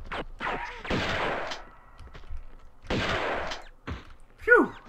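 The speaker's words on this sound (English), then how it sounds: "A shotgun blast didn't do anything against the mice." Shotgun blasts in Tomb Raider II's opera house level, two broad bursts spaced a couple of seconds apart, loud and close, with short squeaky rodent cries near the end.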